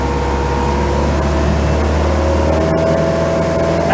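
The inboard engine of a 34ft Hartley timber boat runs under throttle, a steady droning hum with a rising tonal whine partway through, continuous and close.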